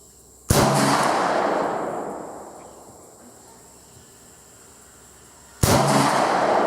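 Two sharp, loud CZ-52 pistol shots ring out about five seconds apart, each a sudden crack followed by a long echoing decay outdoors.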